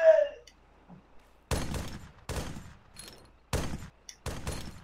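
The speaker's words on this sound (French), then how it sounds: "Qu'est-ce qui nous tire dessus là?" Gunfire in an Arma 3 game match aimed at the players, coming as four separate loud bursts spread about a second apart after a short quiet stretch.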